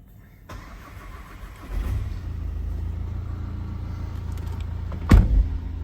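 A Skoda Karoq with an ABS fault and a freshly replaced front wheel bearing cranks and fires up, settling into a steady close idle rumble, with a sharp clunk near the end.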